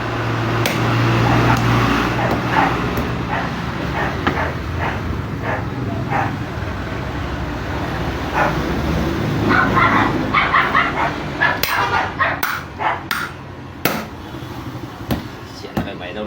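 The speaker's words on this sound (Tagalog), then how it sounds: "Maingay yung ating video, maingay yung alaga ko." Pet dog barking and yipping in short bursts with whimpering between them, close by, mixed with someone talking and some background noise.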